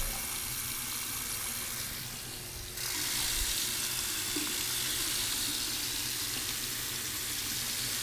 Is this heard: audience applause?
no